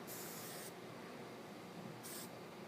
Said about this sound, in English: spraying it good all the way to the ends